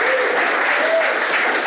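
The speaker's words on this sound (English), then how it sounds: "Give a round of applause, guys." A tech talk audience after a Bitcoin privacy panel breaks into a brief, even burst of close, full-room applause with no gaps.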